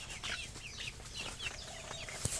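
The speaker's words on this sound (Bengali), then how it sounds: "দেশি মুরগি" Desi (native) chickens cluck softly and repeatedly while pecking at cabbage leaves, close by, in short irregular bursts with a faint background hum and no speech.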